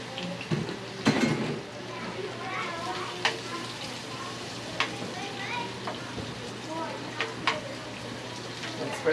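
Shrimp frying in a pan, a moderate steady sizzle with occasional clinks and scrapes of a utensil, while a person talks over it.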